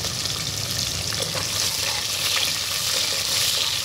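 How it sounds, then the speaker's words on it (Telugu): Chopped onion pieces with green chillies fry in a pan toward brown, making a loud, continuous hiss of sizzling oil with faint stirring scrapes mixed in throughout. "ఉల్లిపాయ ముక్కలు అనేది బ్రౌన్ కలర్లో వచ్చే వరకు ఫ్రై చేసుకున్నామండి"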